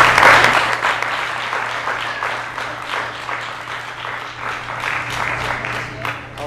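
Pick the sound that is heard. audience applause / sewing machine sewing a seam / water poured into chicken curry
audience applause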